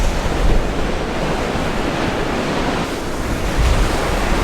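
Ocean waves crash against a coastal jetty while wind buffets the microphone, making a steady, loud roar of surf with swelling surges near the start and end and no talk.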